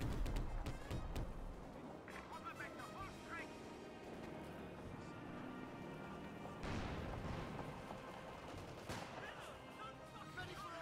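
Heavy anti-tank gun shots boom amid the dense battle noise of Company of Heroes 2, with several sharp reports standing out over continuous rumble and clatter at close range.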